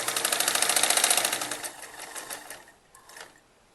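A sewing machine stitches a kurti in a fast, rhythmic run of needle strokes that starts loud, slows and fades, then gives a few final short bursts, with no talking.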